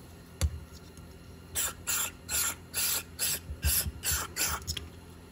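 A series of short, sharp spray bursts of cleaner forced through a Toro 721E snowblower carburetor, about eight quick hisses in an uneven rhythm after a single knock, close and fairly loud.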